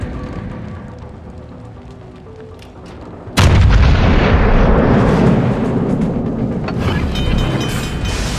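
Naval guns in a warship battle game open fire with a sudden heavy boom, followed by a sustained rumbling roll of artillery and distant blasts after a quieter lead-in, with no talk.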